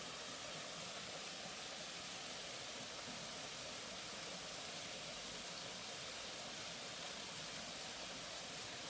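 Steady, unbroken rush of falling water from a waterfall, broadband and even throughout, heard alone without any voices.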